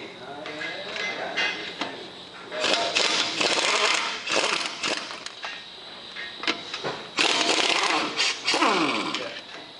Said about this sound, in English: I'm going to remove the wheel.